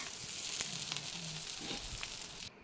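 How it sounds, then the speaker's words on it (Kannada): A dosa frying in oil on a pan gives a soft, steady sizzle with a few light crackles, heard close and on its own for a couple of seconds. "ದೋಸೆ ಹಾಕ್ತಾರೆ ಅದ್ರ ಸ್ವಲ್ಪ ಎಣ್ಣೆ ಹಾಕತ್ತಾರ ನೋಡ್ರಿ"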